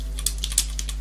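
Computer keyboard typing a command, a quick run of about eight sharp, close key clicks with uneven spacing over a steady low hum.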